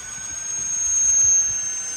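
The electric motor of an RC autogyro at takeoff, a steady high whine with a constant droning hum that swells slightly and then holds, heard outdoors.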